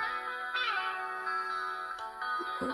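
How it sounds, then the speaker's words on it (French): Small built-in loudspeaker of an Honor 7X smartphone playing music, thin and bright with little bass, a steady tonal melody running continuously with a few brief shifts. "Donc voilà le son du haut-parleur."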